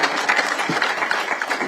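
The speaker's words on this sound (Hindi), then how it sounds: "तो आपकी जोरदार तालियां, करतल ध्वनि से इनका स्वागत आप करेंगे" Dense, steady clapping from a crowd at a Samajwadi Party rally welcomes a speaker, a continuous wash of applause throughout.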